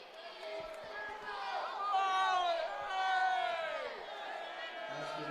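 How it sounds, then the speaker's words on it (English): The crowd at a high school basketball game between Sheldon Clark and Johnson Central groans and shouts in a swelling, sustained wave of displeasure, fairly distant and moderate in level, with sneaker squeaks and scattered voices mixed in. "The crowd did not like that call."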